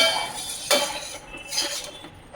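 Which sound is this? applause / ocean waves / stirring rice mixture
stirring rice mixture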